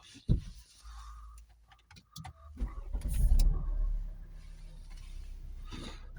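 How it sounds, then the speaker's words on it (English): A vehicle engine is cranked and catches, a loud low burst of starting followed by a steady idle, with a few clicks and taps beforehand during an engine diagnostic session. "And then we'll start the vehicle up."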